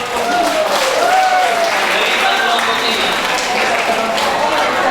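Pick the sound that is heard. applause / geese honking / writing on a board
applause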